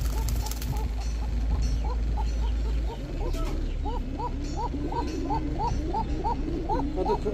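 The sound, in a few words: pigeon cooing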